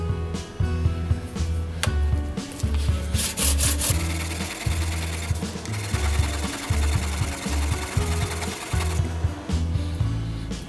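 A tungsten carbide lathe tool being hand sharpened on a stone, rhythmic back-and-forth grinding strokes rasping steadily and close up, with brief pauses between bursts and no talking.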